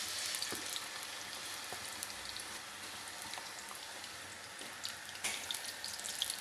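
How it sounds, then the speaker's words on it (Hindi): Chicken deep-fries in hot oil for a Peshawari charsi karahi, producing a dense, even hiss with scattered crackles and small pops throughout, and no one speaking. "ऑयल में हमें चिकन को डीप फ्राई करना है।"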